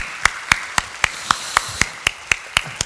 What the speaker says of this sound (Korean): 박수로 하나님 앞에 영광을 돌려드리겠습니다